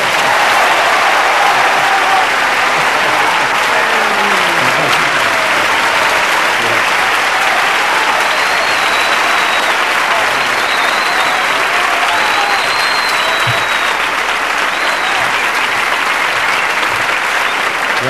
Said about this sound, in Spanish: estos aplausos maravillosos para Paco y para mí, y sobre todo para esta canción